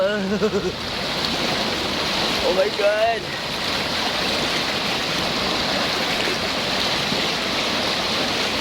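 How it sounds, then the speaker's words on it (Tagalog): Strong, fast-flowing mountain stream current rushing steadily and close by, a continuous broadband roar of water; people exclaim and talk briefly over it near the start. "Pero sulog ang tubig."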